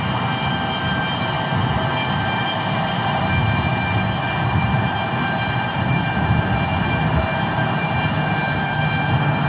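Beechcraft airplane passing at Tucson International Airport, a broad, steady engine roar with a constant whine that holds level throughout, heard from a moderate distance with no talk.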